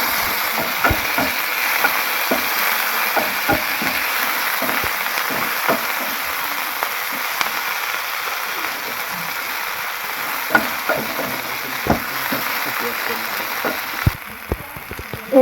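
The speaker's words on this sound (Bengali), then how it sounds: "টমেটোটা ভালো করে গ্রেভি করে ভেজে নেব" Chopped tomatoes frying with browned onions into a gravy, a steady crackling sizzle with irregular spoon taps and scrapes against the pan, fairly loud and close, ending with a couple of sharper knocks.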